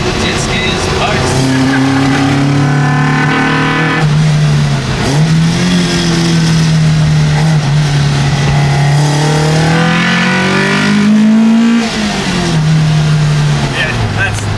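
Ford Escort MK1 RS2000 street car accelerating hard, a loud, close engine whose pitch climbs through gears with shifts and revs, heard from inside with people talking over it.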